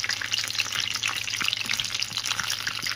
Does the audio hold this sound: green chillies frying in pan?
yes